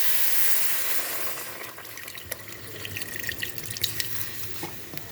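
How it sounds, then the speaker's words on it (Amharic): Water runs steadily into a cooking pot of rice being prepared on the stove, a close, continuous trickling and splashing that fades slightly after the first moments, with no talking. "ለሩዙ የሚበቃውን ያክል ውሃ እንጨምርበታለን።"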